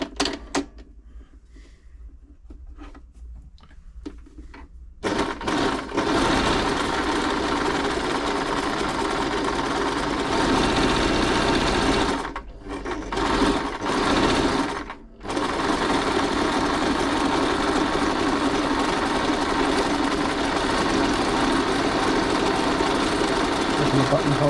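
A Brother XL5012 sewing machine stitches a buttonhole with a fast, loud, steady mechanical whir and rapid needle clatter, pausing briefly twice and running for about twenty seconds, with faint lighter clicks beforehand.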